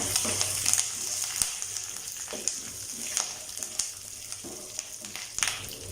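Dried red chillies and curry leaves fry in hot oil with a soft continuous sizzle, broken by scattered crackles and pops and occasional stirring clatter, close and fairly quiet.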